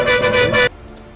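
A bus horn in a mobile bus driving video game gives one loud, steady blast lasting just over half a second, then cuts off abruptly into near silence.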